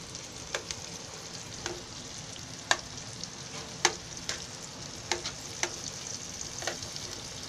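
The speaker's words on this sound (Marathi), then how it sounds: "आपण सर्व अशी एकत्र करून चांगली परतून घ्यायची कडक होईपर्यंत" Bitter gourd (karela) and potato stir-fry in a pan with a soft, steady sizzle, broken by faint, scattered clicks and scrapes of stirring; quiet and without voices.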